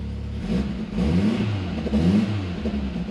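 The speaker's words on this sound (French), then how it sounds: "elle fait un beau petit bruit, on est décata, on est sur un 2 litres turbo préparé" A tuned 2-litre turbo car engine revs up and settles twice, a deep throaty rumble rising in pitch with each blip of the throttle, close and loud.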